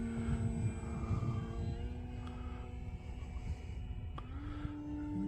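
An Arrows Husky Ultimate RC airplane flying overhead, its small electric motor a steady whining drone with a pitch rise near the end, moderately near, with no talk.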